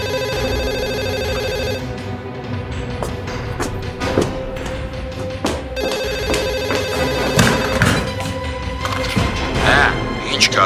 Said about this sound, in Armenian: Ես գիտեմ, որ տան հեռախոսն է